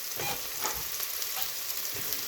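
Chopped onions sauté in a pan for a village-style rabbit gravy, giving a steady, close sizzle with faint soft stirring scrapes and no voices.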